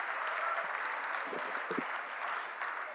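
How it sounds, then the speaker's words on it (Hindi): Audience applause at a Hindi humorous poetry recital, a steady, moderately loud wash of many hands clapping, with a few low murmurs and thumps underneath. "तालियां पीछे वाले कम बजा रहे हैं साहब।"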